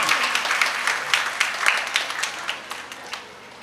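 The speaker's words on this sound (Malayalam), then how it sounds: "അതാ ആ വല്ലിപ്പക്ക് ഒരു നിറഞ്ഞ കയ്യടി കൊടുക്കുക" Applause from an audience at a family gathering, honouring a grandfather: a dense, steady patter of many hands clapping that gradually thins and fades over a few seconds.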